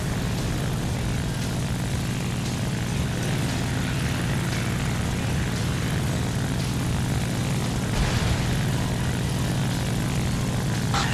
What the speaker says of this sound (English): planes are flying around in the sky at 400 kilometers an hour, all chasing one plane